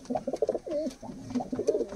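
Giribaz pigeons in a loft give soft, repeated throaty coos, several close calls overlapping in a gentle rolling rhythm.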